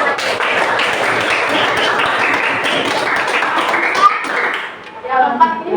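Classroom applause for a student group in an 11th-grade history class at a senior high school, steady dense clapping filling most of the clip before thinning out near the end.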